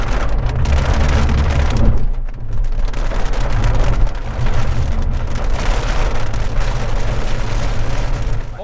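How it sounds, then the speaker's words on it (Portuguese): Heavy rain in the American Midwest pours steadily and loudly, a dense close hiss of drops drumming on surfaces, with a brief lull partway through and no talking. "Chuva no meio oeste americano."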